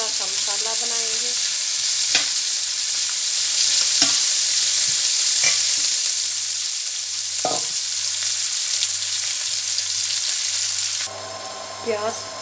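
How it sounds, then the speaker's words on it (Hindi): Onions frying in hot ghee for a masala bhindi, a steady loud sizzle running throughout with a few sharp stirring clatters of a spoon against the pan; no voices. "तो प्याज शामिल कर देंगे इसी घी में जो तेल मैंने रखा था। अब हम इसको फ्राई करेंगे,"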